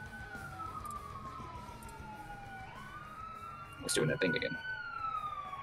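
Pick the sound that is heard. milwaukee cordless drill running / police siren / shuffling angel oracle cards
police siren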